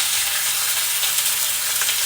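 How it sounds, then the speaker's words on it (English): Beef for stroganoff sizzles steadily in a hot pan, a loud, continuous frying hiss with faint stirring crackles and no voices. "So I'm going to turn that down because it's a sizzling."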